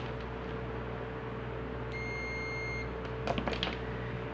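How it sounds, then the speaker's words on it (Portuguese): A digital multimeter set to its resistance continuity range gives a single steady beep of about a second while testing the terminals of an air conditioner's hermetic compressor, over a constant hum, followed by a few light clicks. "Colocamos o nosso multímetro digital na escala de resistência ôhmica bip sonoro."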